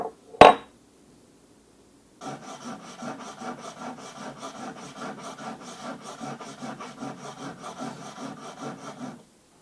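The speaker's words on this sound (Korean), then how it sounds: "이렇게 연마를 해보시면" A hand plane blade is ground on a sharpening stone: one sharp knock, a short pause, then a long run of steady, rhythmic back-and-forth scraping strokes, close and clear.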